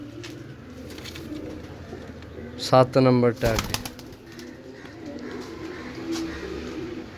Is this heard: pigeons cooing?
yes